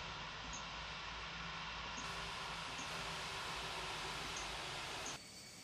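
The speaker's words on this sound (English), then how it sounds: "let's shut down the aircraft" Airliner engines in the FSX flight simulator game hold a steady, even whine and roar, then cut off abruptly near the end, leaving a quieter hum.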